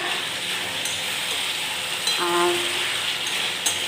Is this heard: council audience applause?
no